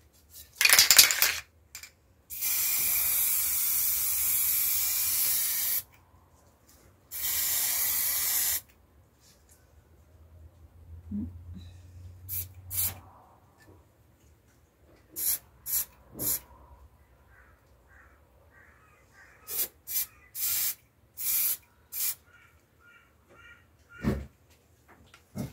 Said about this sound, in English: so I'm ready to spray paint this black to match the rest of the hardware.